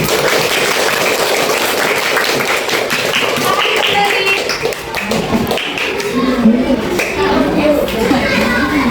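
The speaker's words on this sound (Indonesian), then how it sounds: "Kita beri tepuk tangan untuk kelompok Alisa yang sudah mempresentasikan hasil diskusinya" Students in a classroom clap for a group that has just presented its discussion results, brisk, close patter of hands for several seconds that fades into children's chatter and voices.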